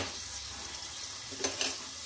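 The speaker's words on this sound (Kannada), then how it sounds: "ನೋಡಿ ಹೆಂಗೆ ಫ್ರೈ ಮಾಡ್ಕೊಳ್ತಾ ಇದ್ದೀನಿ." Paneer fried rice vegetables fry in a large iron pan, giving a steady soft sizzle with a couple of brief stirring scrapes near the end.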